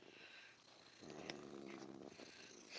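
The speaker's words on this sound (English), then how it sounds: "And you can hear this purr." A cat purrs softly and continuously up close, a low rumbling vibration with faint background hiss, no talking.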